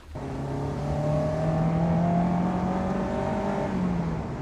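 A modified Honda S2000's engine and exhaust drone steadily with a rising throaty tone, loud and close, no voices.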